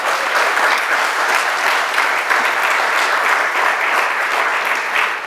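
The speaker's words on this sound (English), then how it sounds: "Let's give them a round of applause." A roomful of people at a mayor's breakfast in Tuscan Hall gives the caterers a sustained round of applause, dense and even from start to finish with no speech over it.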